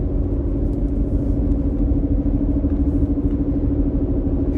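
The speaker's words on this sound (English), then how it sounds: "There's just traffic whizzing by all of this stuff." Steady low rumble of road traffic passing by along a highway near Big Bend, a continuous engine drone with no pauses, fairly loud and with no voices.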